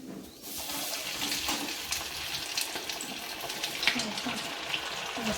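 Snacks frying in peanut oil for a fasting recipe, giving a steady, dense sizzle and bubbling that runs close and fairly loud throughout, with small crackling pops and no talk.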